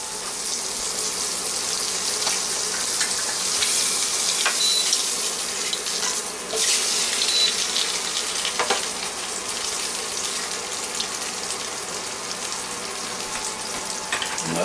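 Eggs frying in a pan on a Copper Chef induction cooktop, a continuous bright sizzle with a few sharper scrapes as they are flipped, close and fairly loud with no talking.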